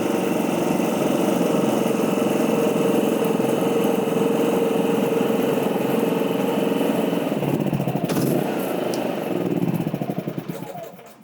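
Pioneer P7600 engine idling with idle control on, a steady, loud, close mechanical drone with a constant hum that eases slightly near the end before dropping off.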